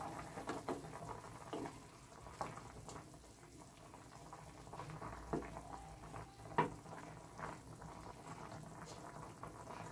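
Homemade chicken sausages simmer in a covered pot of boiling water, giving a steady low bubbling and sputtering with occasional louder pops and clinks, close and fairly quiet, with no talking.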